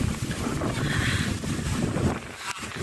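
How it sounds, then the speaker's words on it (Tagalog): Strong wind buffets the microphone in a steady, loud roar with gusty swells, and a faint wash of water sounds beneath it. "Malakas talaga yung hangin."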